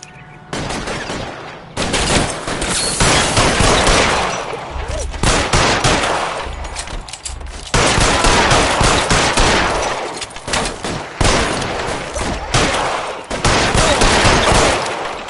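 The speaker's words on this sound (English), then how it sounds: "Fire a warning round." Rapid bursts of gunfire aimed at car tires as warning shots, loud dense volleys of automatic fire separated by short pauses, close and harsh.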